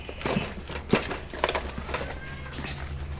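Pet African lovebirds, an opaline pale fallow pair in a cage, give a few short chirps among wing flutters and rustling, with a sharp clatter near the start, all fairly close and moderately loud.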